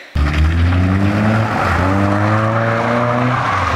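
A car spins donuts on a building site near Lake Tahoe, its engine roaring loud and close with long rising and falling whines and tire squeal, without talk.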